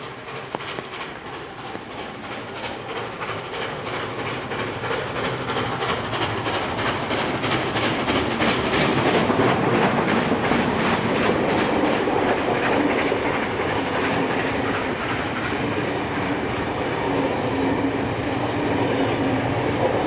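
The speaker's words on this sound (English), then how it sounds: "3265 from the Powerhouse Museum charging through the Australian winter rain" Steam locomotive 3265 passes close by in heavy Australian winter rain, a steady rush of noise under a rapid rhythmic clickety-clack of wheels over rail joints that builds and stays loud for the whole pass.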